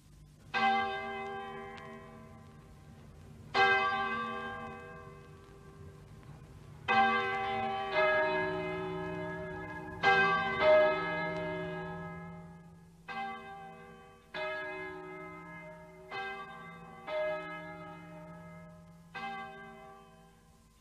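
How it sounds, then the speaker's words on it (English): Church bells ring out one after another in a slow, uneven sequence, each strike resonant and ringing on as the next one sounds. "I wonder why the church bells are ringing."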